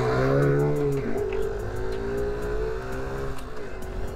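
A 2012 Suzuki Birdie 50 motorcycle drops into first gear, its steady engine drone shifting pitch and surging as the revs climb, then changing again near the end, loud and close with no talk.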